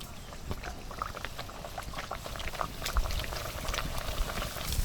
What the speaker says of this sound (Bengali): আমাদের লুচি ভাজা চলছে